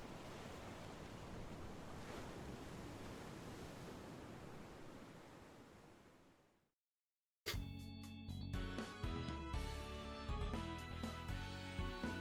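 Ocean waves wash steadily in a video game as a broad, continuous surf roar for about six seconds, then fade to silence before music begins.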